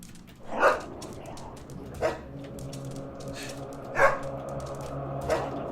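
A dog barks in the video game Helltown in a few separate bursts, spaced about a second and a half apart, over a low steady background hum.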